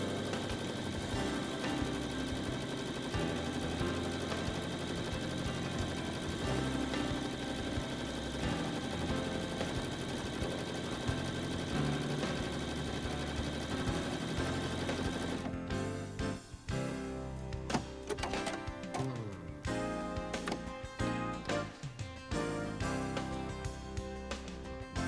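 A Brother Pacesetter ULT 2002D sewing machine stitches a buttonhole with the buttonhole foot fitted and the lever lowered. It gives a dense, fast mechanical whir that runs loud and steady, then turns choppier and more broken in the second half. No voice.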